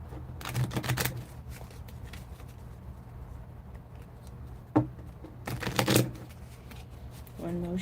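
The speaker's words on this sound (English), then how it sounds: "One more shuffle." Tarot cards are shuffled by hand in two short, crisp bursts of riffling a few seconds apart, with quiet room tone and a soft voice nearby.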